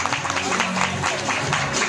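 Wedding guests at a Taiwanese reception applaud as the bride enters with her father, steady dense clapping from a crowd throughout.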